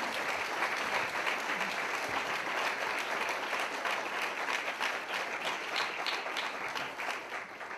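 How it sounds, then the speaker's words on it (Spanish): A seated audience at the SEO/BirdLife 60th anniversary event gives a long, steady round of applause, many hands clapping evenly and fairly distant for nearly eight seconds with no speech. "Solicito otro aplauso."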